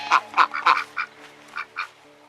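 A goose gives a series of short, nasal honks, loud and close at first, then spaced out and a little softer, with no talking.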